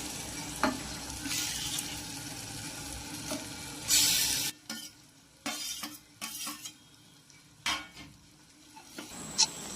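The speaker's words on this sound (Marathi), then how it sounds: "त्यानंतर आपल्याला टाकून घ्यायचं आहे आपले वांग भाजलेले वांगे" Roasted eggplant is stirred into hot oil spiced with turmeric and red chili powder, with soft sizzling under intermittent scraping stirs and clinks of a utensil against the pan.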